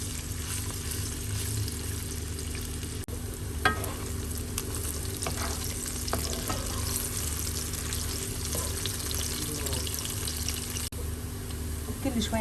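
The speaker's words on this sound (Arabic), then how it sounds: "بدنا نحمر الباذنجانات." Eggplant pieces frying in vegetable oil in a pan, a loud continuous crackling sizzle held for several seconds, with occasional clinks and scrapes as the pieces are turned.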